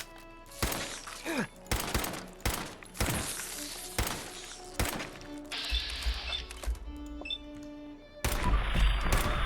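A Gauss rifle fires in Fallout 4: a series of sharp, heavy gunshots with thudding impacts, spaced a second or so apart and nearby, followed by a denser burst of combat noise near the end.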